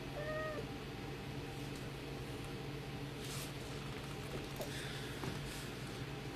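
A cat gives a short meow near the start against a steady background hiss, then stays quiet for the rest of the moment.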